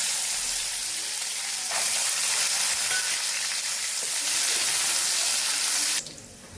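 Cardamom, cloves, cinnamon sticks and cashews hitting hot oil in a pan for basanti pulao, a loud, dense, steady sizzle that stops abruptly near the end.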